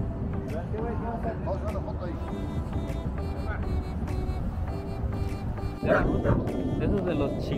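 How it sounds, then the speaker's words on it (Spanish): Dogs bark and yip amid busy outdoor noise with people talking nearby, several bursts overlapping through the scene and a louder bark near the end. "aquí vemos cómo los perros están ladrando"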